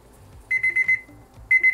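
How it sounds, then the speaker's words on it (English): A kitchen timer beeps in quick bursts of four, pauses briefly, then starts another rapid series of shrill tones, close and clear. "timer is done on this side"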